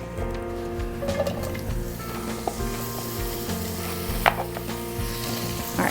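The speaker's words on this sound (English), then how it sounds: "we're just gonna saute it until it's brown" Pieces of precooked ham steak saute in a pan, giving a steady close sizzle with a few faint clicks of a utensil and a low background hum throughout.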